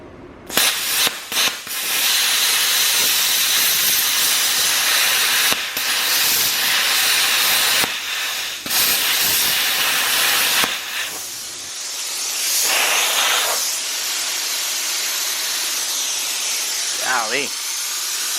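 A BestArc BTC500D Gen 7 plasma cutter cuts through metal near a welding table with a harsh, loud, continuous hiss. The hiss breaks off in short gaps and then resumes, with brief talk and quieter stretches near the end.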